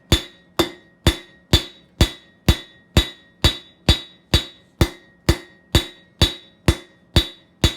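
Steady hammer blows on an anvil while hot metal is forged into a decorative rose, about fourteen sharp ringing strikes at an even, unhurried rhythm, each clanging note decaying quickly; loud and close with nothing else heard.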